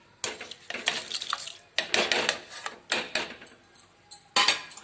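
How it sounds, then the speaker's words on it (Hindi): Moong dal stirred with a metal spoon in a cooking pot, four separate bursts of scraping and clinking against the pot, close and fairly loud, with short pauses between. "और इसको अच्छे से हम घुमा देंगे।"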